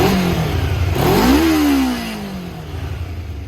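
A 33-year-old Kawasaki motorcycle engine revs sharply up and down close by just after starting, then settles into a lower, steady idle.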